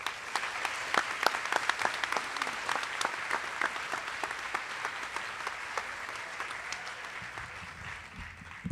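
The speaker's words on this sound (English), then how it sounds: "let's all give Jose a round of applause" Audience at a school district convocation applauding, a sustained round of many hands clapping with distinct sharp claps poking through the crowd patter, moderately distant, tapering slightly toward the end.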